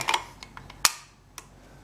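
A 30-06 cartridge is pressed into a rifle magazine, producing a handful of small metallic ticks and one sharper click, all close and quick within two seconds.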